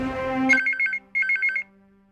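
A telephone rings in a Hindi TV serial scene: two quick electronic warbling ring bursts, clear and close, following a brief trailing tone, with no talk over them.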